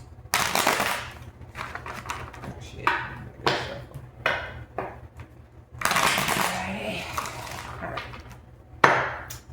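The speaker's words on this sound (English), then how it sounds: "we're gonna put this back in the deck, and I'm gonna shuffle." A deck of tarot cards being shuffled in a series of bursts of riffling and slapping card noise, with pauses between handfuls, fairly close.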